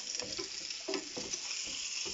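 Food frying in a pan during roasting, with a steady close sizzle and soft stirring scrapes, and no talking.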